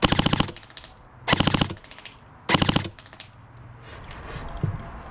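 A CYMA Platinum SMG9 airsoft submachine gun fires three rapid full-auto bursts, each a fast, even rattle of sharp mechanical clacks, loud and close, with short pauses between them and quieter handling noise afterward.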